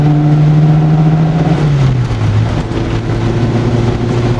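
Alpine A110 1300 V85 engine droning loud and steady from inside the car, its pitch dropping partway through as it shifts into fourth gear, then pulling on at a lower, even tone.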